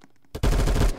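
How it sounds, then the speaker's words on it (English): A loud burst of gunfire in the Roblox game Phantom Forces bursts in abruptly after a quiet, muffled stretch, with rapid repeated shots continuing close and dense. "That gunshot sound, that it's like he has a silencer or something."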